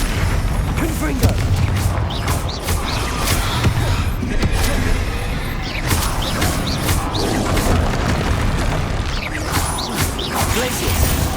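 Confringo fire spell explosions go off in the video game Hogwarts Legacy, a series of booming blasts and crashes among other combat effects, fairly loud, with a voice speaking over them at times.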